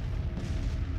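Artillery fire in the video game Grand Tactician, a low, rolling rumble of distant cannon booms that stays steady through the whole moment without sharp peaks.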